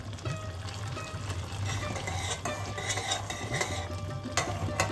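Spices in hot oil are tipped into raw tamarind chutney and stirred, giving a continuous close scraping and sizzling texture with scattered utensil taps.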